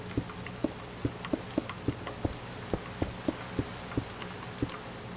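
Steady rain falls in the Minecraft video game, a continuous wash of drops with soft regular ticks spaced through it, moderately loud and alone with no voices.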